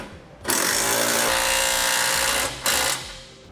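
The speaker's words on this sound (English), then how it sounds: "Now we'll go ahead and snug down these nuts." A power impact wrench snugs down flange nuts on a Curt trailer hitch receiver on a 2015 Lincoln MKX, one loud sustained whirring burst followed by a brief second burst after a short pause, close by.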